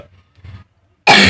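A person coughs in a domestic setting: a couple of soft throaty bursts early on, then one loud, harsh, close cough at the end.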